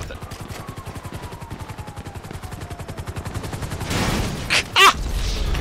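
Vehicle-mounted gun firing in GTA 5, a steady rapid rattle of shots in an even rhythm for several seconds, followed by louder bursts and a rising roar of combat noise.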